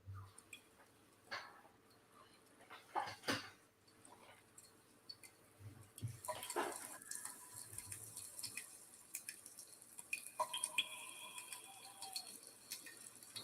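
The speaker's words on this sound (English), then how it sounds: "Dripping in caves." Water drips in a cave as a quiet sound effect, with a few sparse plinks and splashes scattered irregularly over a faint, hushed background.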